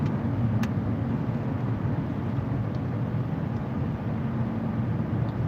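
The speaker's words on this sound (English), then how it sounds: "I don't know what's going on with this car" A car rolls along steadily with a constant engine and road rumble that stays loud and even throughout, with no voices over it.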